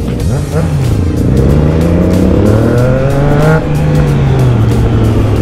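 A Triumph Trident 660 three-cylinder motorcycle pulls hard and loud, its engine note rising through the gears with quick shifter changes, heard on board with wind rush and a rider talking over it.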